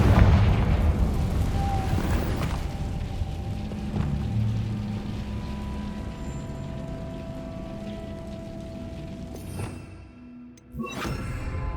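Confringo spell explosion in Hogwarts Legacy: a loud, rumbling blast opens, then decays into a long crackling, rain-like hiss of debris that fades, with a brief dip and faint rise near the end.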